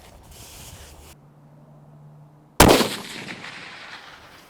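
A single loud rifle shot fired at a 500 yard target outdoors, a sharp crack followed by a decaying rumble, after a quiet lead-in.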